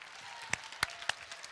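A few scattered hand claps from a small audience at a LEGO model-building event, faint and sparse with gaps between them.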